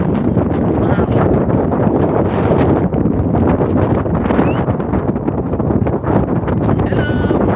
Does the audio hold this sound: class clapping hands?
no